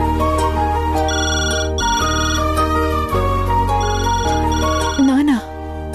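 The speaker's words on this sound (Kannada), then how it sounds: "ಅಮ್ಮ ರಾಧಿಕಾ, ನೀನ್ ಹೋಗಿ ಫೋನ್ ತೆಗಿ." A telephone rings continuously with an electronic ringtone melody, loud and close, lasting several seconds over a low background music bed, with a brief sliding tone near the end.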